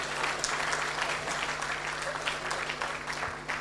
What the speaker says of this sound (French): M. Yomba, applaudissez pour lui s'il vous plaît.